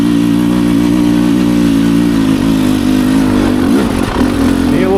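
A Beta 300 Xtrainer two-stroke dirt bike climbs a hill in second gear, its engine droning loud and close throughout, with the pitch wavering and briefly surging near the end as the throttle is snapped.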